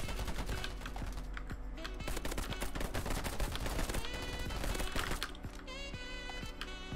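Rapid gunfire from gun beams in the shooter game Polygon, dense repeated bursts of shots rattling continuously and loud throughout.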